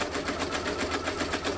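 An embroidery machine stitching a cap held in a Durkee hat hoop, a fast, even run of needle strikes at close range that stays steady throughout, with no one talking.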